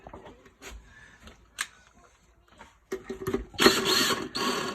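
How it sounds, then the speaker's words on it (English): Set screws being backed out on a rotating cupboard, scattered faint ratcheting clicks and small metallic ticks close by, ending in a louder burst of handling noise. "now these screws I'm backing out are just set screws."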